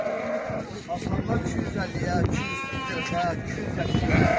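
Lambs and sheep bleat repeatedly at an open-air sheep, goat and cattle market in Mashtaga, Azerbaijan, with several overlapping calls near and far, mixed with people talking and bargaining nearby.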